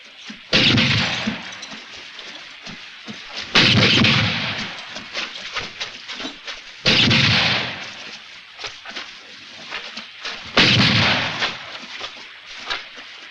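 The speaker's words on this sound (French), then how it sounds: "Laissez-les tirer tant qu'elles peuvent. Bientôt, elles n'auront plus de munitions." Repeated bursts of heavy gunfire in a Western film shootout, four loud volleys spaced a few seconds apart, each trailing off into scattered cracks and crashes, with no voices.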